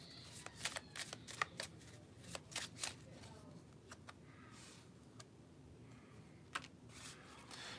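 Tarot cards are shuffled in quick, crisp riffling bursts and taps, close and fairly quiet over a soft background.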